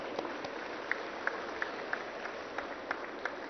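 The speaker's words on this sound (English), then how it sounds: "we need to have a serious clap for all this activity" Scattered audience clapping at a green property show in Hyderabad, a thin, fairly distant patter with a few sharper individual claps standing out, steady and moderately faint, no talk over it.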